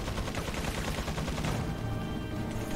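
Rapid gunfire from the video game Resident Evil 4 rattles in a dense, continuous burst of loud shots with no pauses and no talk over it.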